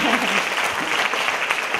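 Audience applause at a traditional Henan opera (Yu opera) stage event, a brief, steady burst of clapping filling the hall with a dense, even texture throughout.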